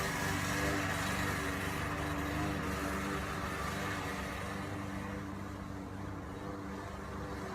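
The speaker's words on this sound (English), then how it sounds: "this sense of lawnmowers with loud engines outside" Lawnmowers with loud engines run outside, a continuous droning motor hum with a steady low buzz, heard from some distance and fading slightly toward the end.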